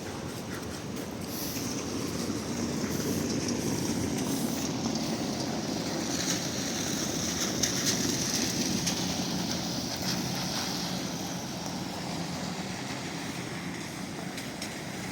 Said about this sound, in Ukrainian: давайте ще вам покажемо банановий трамвай